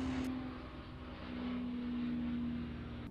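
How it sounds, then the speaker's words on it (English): An airplane flies low overhead, making a steady, droning engine rumble with a sustained hum that swells slightly and then eases. It sounds moderately distant and has no speech over it. "Plane just flew over. That was loud, that was low."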